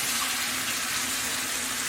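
Chicken stock is poured into a hot pan for a roux, giving a steady, loud liquid rush with a sizzling hiss throughout, no talking.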